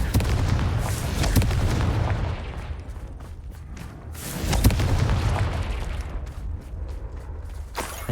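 Fiery Confringo blasting spells in Hogwarts Legacy set off repeated deep booming explosions, two heavy blasts with rumbling tails separated by a lull, plus sharp crackling bursts toward the end.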